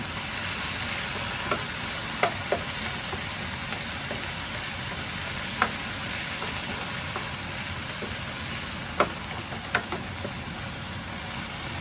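Beef sizzling steadily in a pan as its juices release, a continuous close frying hiss with occasional sharp pops and spatters and no talk.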